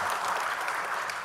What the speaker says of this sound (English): I think we deserve a much bigger round of applause